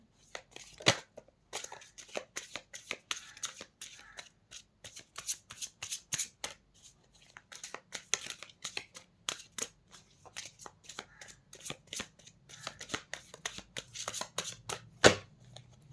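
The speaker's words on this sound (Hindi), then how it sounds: "last shuffle" Tarot cards shuffled by hand in a long run of quick riffling, snapping bursts with brief pauses, close and fairly quiet, with no talking.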